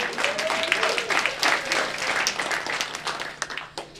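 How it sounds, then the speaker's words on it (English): A stand-up comedy audience at Helium claps and cheers in a loud, sustained burst that keeps going for several seconds before thinning toward the end, with a voice faintly heard beneath. "Clap it up for all the ladies out there."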